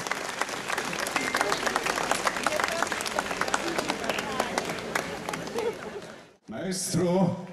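Audience at an outdoor concert event in Krynica-Zdrój claps in sustained, dense applause mixed with crowd noise for about six seconds, cutting off briefly before a burst of louder cheering and voices.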